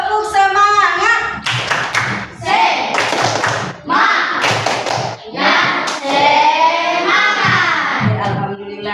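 Children and a teacher in a classroom perform a rhythmic spirit clap, bursts of clapping in a patterned beat alternating with chanted voices, loud and close.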